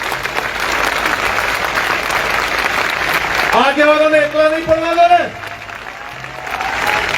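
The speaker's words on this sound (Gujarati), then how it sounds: "એકવાર બે હાથ ઊંચા રાખીને ખખડી તાળી પાડો ખબર પડે કે વાહ." Political rally crowd clapping hands throughout, a steady, loud roar of applause while a voice speaks over the middle.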